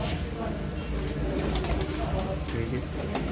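Pigeons coo and flutter amid a crowded pigeon market in Shahdara, Lahore, a dense steady hubbub with people talking nearby throughout.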